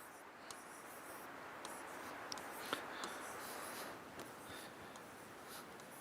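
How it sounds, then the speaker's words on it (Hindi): A phone number being written by hand, heard as faint, soft scratching strokes with a few light taps against a quiet background. "मैं आपको यहाँ पे नंबर लिख देता हूँ"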